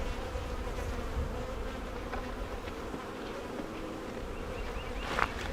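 Honey bees swarm around an open hive during an inspection, a dense steady buzzing close to the microphone, with one bee passing louder near the end.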